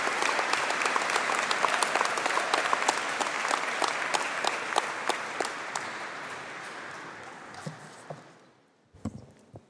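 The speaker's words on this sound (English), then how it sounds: "Please give a collective round of applause for the graduates of the postgraduate diplomas" Audience applause at a university conferring ceremony for business and hospitality graduates, a steady sustained clapping from a large crowd that fades out near the end, with a few scattered claps afterward.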